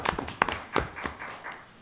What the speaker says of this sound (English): Give him a clap even though he's not here.